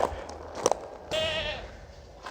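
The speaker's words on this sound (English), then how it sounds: "So as you get to the door, you typically get to hear the goats run in" Goats bleat as they run into the barn at dinner time, one loud wavering bleat standing out after a few brief clatters and thumps nearby.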